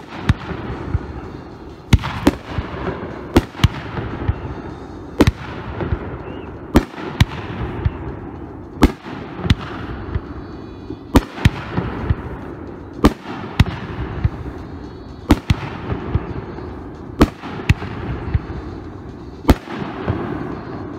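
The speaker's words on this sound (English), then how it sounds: "Shot red, white, and blue peony." Red, white and blue peony firework shells from a 76 Fireworks Pro Line item burst one after another at a demo, about a dozen loud booms and sharp cracks spaced a second or two apart.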